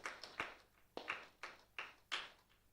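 A congregation claps hands in thanks during an evening Eucharistic blessing service, several short bursts of group applause in a loose rhythm, fairly faint and distant.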